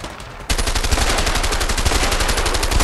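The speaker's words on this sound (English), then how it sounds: "Oh, this gun mad inaccurate." Rapid automatic gunfire from a weapon in the video game A Way Out, a loud sustained burst of evenly spaced shots that starts abruptly and keeps going without a break.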